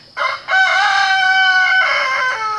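A bird up on a barn roof calls loudly in one sustained, harmonic-rich cry lasting over two seconds, close and clear with no talk over it.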